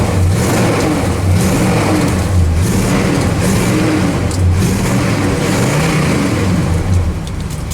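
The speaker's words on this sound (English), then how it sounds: "Let me kick this choke off, and she idles right down." A 1973 Chevrolet El Camino SS with a 454 V8 runs with the choke just kicked off. It gives a loud, close, continuous throaty rumble that pulses gently as the engine settles toward idle, with no talking over it.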